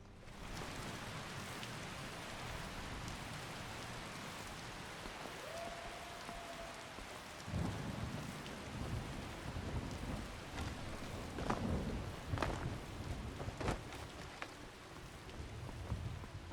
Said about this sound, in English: I think the rain's actually finally coming to an end.